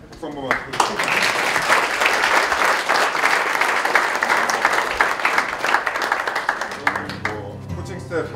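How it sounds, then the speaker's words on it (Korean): SK Wyverns players and staff give departing pitcher Kim Kwang-hyun a sustained round of applause. Dense clapping from the gathered group fills the room for several seconds, then fades as a low voice comes in at the end. "박수 한 번만 드리겠습니다."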